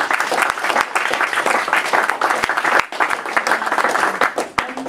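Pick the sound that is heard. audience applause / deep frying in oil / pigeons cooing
audience applause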